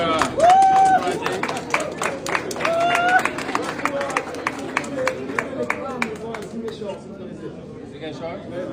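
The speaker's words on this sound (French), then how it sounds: "vous applaudirez ça, il faut" Audience clapping in quick, distinct claps over crowd babble and talking voices, fairly close, fading and thinning toward the end.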